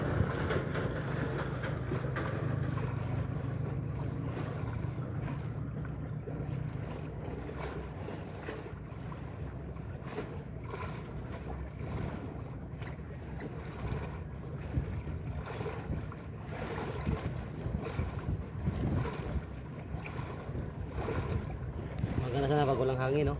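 Wind gusts steadily over a small fishing boat on open sea off Coron, Palawan, a continuous blustery rush with water noise beneath and people talking now and then.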